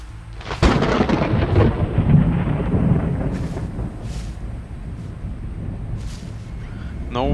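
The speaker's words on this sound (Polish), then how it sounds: "jak tu niedaleko grzmotnęło" A nearby thunderclap in the video game A Quiet Place: The Road Ahead bursts in and rolls into a long, loud rumble with steady rain-like noise beneath, fading slowly over several seconds.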